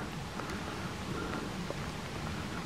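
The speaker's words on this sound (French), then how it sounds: "il pleut tout petit peu plus quand même." Soft, steady patter of light mountain rain near Tignes in the French Alps, a continuous faint hiss with scattered small droplet ticks throughout.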